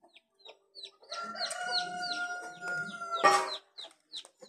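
Chickens cluck and squawk in an African village yard, with a rooster-like call rising through a dense run of close, overlapping fowl noise and short chirps before and after.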